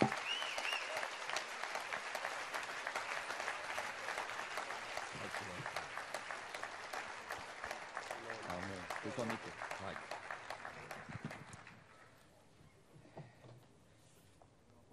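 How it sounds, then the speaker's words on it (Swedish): Audience applause during an evangelical tent meeting in Sweden, a dense steady clapping that runs for about twelve seconds before fading quickly to a few scattered claps and near silence. "därför tycker jag vi ska ge Carl Gustaf Severin en stor applåd"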